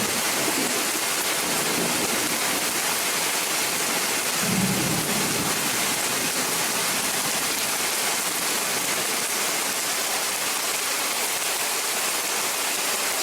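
Steady broadband rain pours down outdoors during a lightning storm near horses, with one faint low rumble of distant thunder early on beneath the constant hiss.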